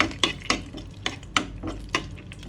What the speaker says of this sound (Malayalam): നമ്മൾ റോസ്റ്റ് ചെയ്ത കാഷ്യൂനട്ട് അണ്ടിപ്പരിപ്പൊക്കെ നമുക്ക് ഇട്ട് കൊടുക്കാം. ഓക്കെ, ഒന്ന് ഇളക്കി കൊടുക്കാം.